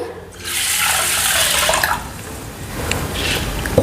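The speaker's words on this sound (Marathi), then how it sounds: "आता याच्यामध्ये पाणी टाकून ठेवते" Water pours steadily onto soaked sorghum grains in a container for a couple of seconds, then trickles and splashes more lightly, with no voices.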